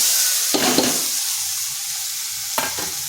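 Potatoes sautéed in a spice masala in a hot pan, a steady close sizzle broken by two distinct scraping stirs of the spatula, no voices.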